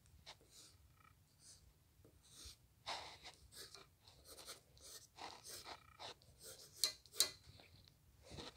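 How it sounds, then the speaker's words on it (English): Pencil strokes scratching across paper while sketching a comic-book villain, a quiet series of short irregular scrapes with soft breathing noise between them. "that was me drawing Scarecrow from DC Comics"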